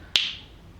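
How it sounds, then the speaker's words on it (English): A single sharp finger snap, crisp and close, ringing out briefly against near silence. "You snap your fingers, the three spectators will close their eyes."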